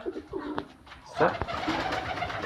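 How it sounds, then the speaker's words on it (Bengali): Large-breed pigeons coo in short, throaty bursts near a keeper's loft, several calls overlapping with someone speaking nearby. "এই যে সুন্দরী, এর সুন্দরী কবুতর।"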